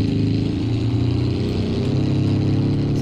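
Small tub-shaped car idling in BeamNG.drive, a steady, loud, close engine drone with a faint rhythmic pulse, unbroken over a few seconds.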